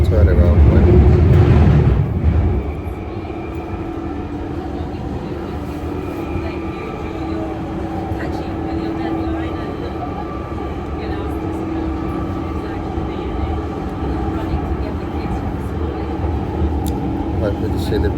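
A London Underground Jubilee line train rumbles steadily through a tunnel, a loud continuous roar with a heavier surge at the start, heard from inside the carriage.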